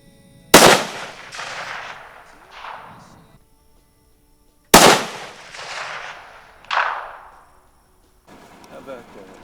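Two loud rifle shots at an outdoor range, each a sharp crack followed by a long rolling echo and a distant secondary report, spaced about four seconds apart, with faint handling noise after.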